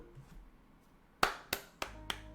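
A person clapping hands five times in an indoor room during a card game stream, sharp close claps at a slowing, uneven pace after a quiet start, with no speech.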